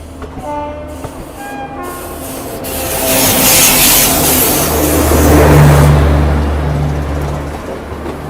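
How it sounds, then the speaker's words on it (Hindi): Gatimaan Express train passing near Jhansi: horn blasts at the start, then a loud rising rumble and rushing wheel noise as the carriages sweep past close by, with no speech. "भारत की सबसे तेज़ ट्रेन यानी गतिमान एक्सप्रेस भी आ चुकी है।"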